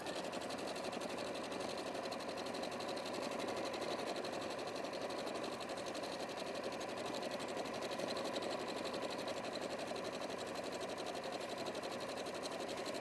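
A Brother sewing machine running steadily for the whole stretch, a fast, even mechanical whir and chatter of the needle, close and constant with no talk over it.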